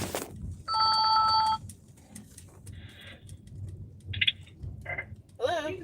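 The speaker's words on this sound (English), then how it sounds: "this is a phone call, so I'm gonna see who this is" A telephone rings with an incoming call indoors, one long electronic ring burst followed by shorter chirping tones and warbles, fairly close, with a person's voice nearby.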